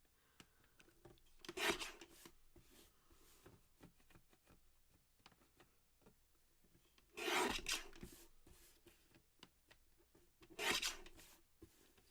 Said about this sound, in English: I'm going to trim this a little closer to the peacock, as close as I can get.